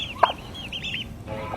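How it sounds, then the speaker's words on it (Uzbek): Young chicks and poultry roaming a grassy alfalfa field, with high peeping chirps repeating and a short clucking call near the start, fairly close and without talk. "Mana jo'jalarimiz"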